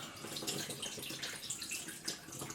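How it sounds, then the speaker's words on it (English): Film developer liquid being poured out of a developing tank, a steady close splashing and trickling of water-like fluid running continuously with small bursts, no talking. "So I'm pouring that out."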